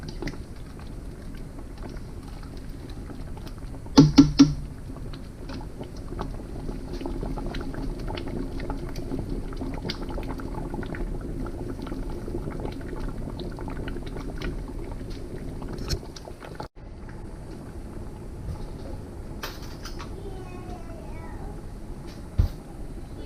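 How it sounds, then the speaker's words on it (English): Homemade spaghetti sauce made from garden tomatoes bubbles in a pot at a steady simmer, a continuous close-up boil with a few louder clatters and pops along the way. "It's only been boiling for maybe 5 minutes."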